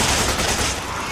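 Rapid gunfire from a Resident Evil 5 gameplay session forms a loud, dense burst of shots lasting about a second, with no gaps between the reports.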